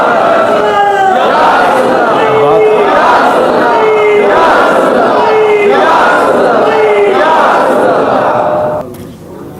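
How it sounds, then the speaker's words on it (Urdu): A large crowd at a religious gathering chants slogans in repeated call-and-response bursts, loud and rhythmic roughly every second and a half, before dropping off abruptly at the end. "یہ نعرے ہی ہے."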